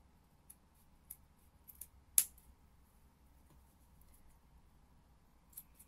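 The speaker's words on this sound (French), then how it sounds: "On coupe l'excédent." Scissors trimming excess fabric from a trouser seam: a few faint, quiet snips and small handling ticks, one sharper close cut standing out, in an otherwise hushed room.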